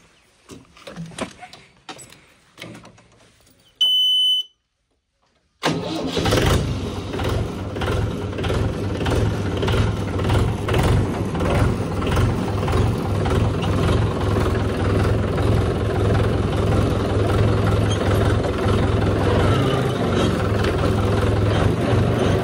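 A farm tractor engine starts up after a few clanks and a brief pause, then settles into a loud, steady low idle that runs on for the rest of the span, with some voices early on.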